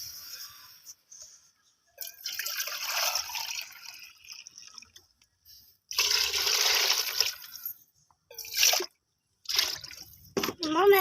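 Water pours into a cooking pot for matar pulao rice in several bursts with splashing, separated by brief pauses, close by; a voice speaks briefly near the end.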